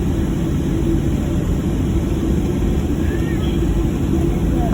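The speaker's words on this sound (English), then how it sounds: "We were taxiing for about a few minutes to the runway" Southwest Airlines jet taxiing to the runway at night at Washington Reagan airport, a steady loud broadband engine rumble and hiss heard from inside the cabin, continuous with no talking.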